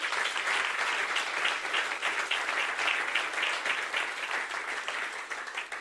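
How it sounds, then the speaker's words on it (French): A church congregation claps for a brother during a worship service, sustained dense applause throughout that slowly thins toward the end. "On peut l'applaudir aussi."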